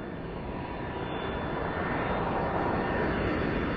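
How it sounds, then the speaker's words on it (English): A passenger airplane roars overhead, a loud continuous broadband engine rumble that builds slightly over a few seconds with no voices. "a plane is about to crash right onto us"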